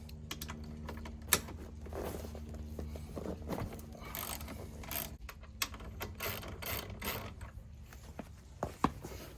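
Ratchet clicks and scattered metallic taps from work on a Honda Element's rear seat bolts, a series of quiet, irregular clicks close by with occasional sharper knocks.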